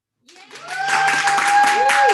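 Applause and cheering from a crowd at a 2021 Ed.D. Educational Leadership graduation recognition ceremony, rising quickly into a sustained, steady roar.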